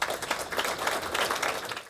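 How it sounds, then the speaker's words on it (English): An audience gives Rachel Notley a short burst of dense clapping that fills the room and fades out at the end. "I think Rachel Notley deserves a hand of applause for you"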